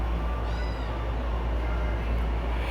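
Cats meow in an animal shelter cattery, brief mews rising over a loud steady low background hum, with no talking.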